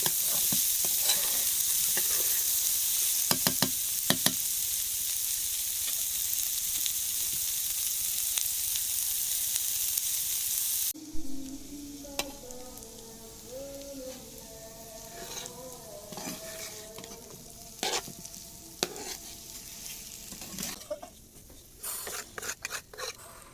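Meat and onion fry together in a pan in a village kitchen, with a strong continuous sizzle at first, then quieter frying broken by scraping and clinking stirring strokes against the pot.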